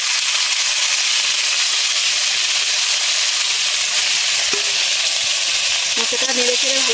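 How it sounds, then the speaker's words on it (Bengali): Chopped banana flower fries in hot mustard oil in a pan, a loud, continuous sizzling hiss with a brief voice near the end. "আমি এখন মোচাটা দিয়ে দেবো ভাজার জন্য।"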